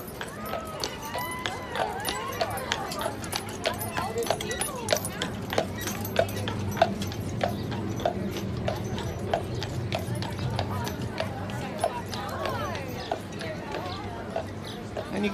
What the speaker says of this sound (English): And there's a horse-drawn trolley coming through.